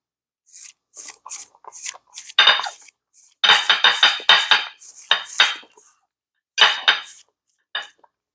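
Metal knife and fork scraping and clinking against a plate while cutting tender steak, a string of short close clatters with brief silent pauses between them.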